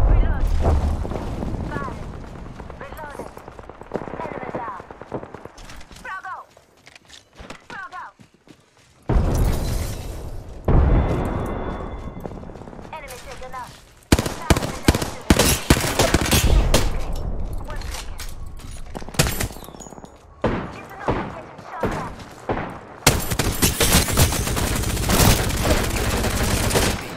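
Apex Legends video game gunfire in bursts of rapid automatic shots and sharp cracks, separated by quieter stretches, with game sounds and talking over the action.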